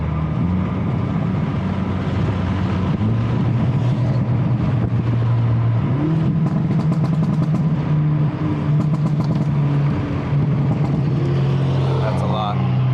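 Hyundai Elantra N with an AEM water/methanol kit, its engine and exhaust droning steadily from inside the cabin with the window partly down, the pitch shifting with throttle under continuous talk.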